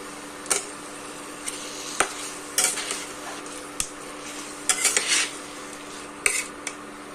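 Medium-cut potatoes frying in a pan for aloo jeera, with sparse clinks and scrapes of a utensil against the pan over a faint, steady sizzle.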